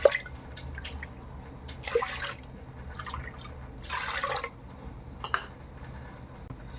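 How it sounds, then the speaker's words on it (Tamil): Water is poured into a pot of raw rice and split moong lentils for temple-style pongal, coming as a few short splashing pours separated by quiet pauses, close and fairly soft. "அதே கப்பில் ஒரு 3 கப்பு தண்ணி சேர்த்துக்கலாம்."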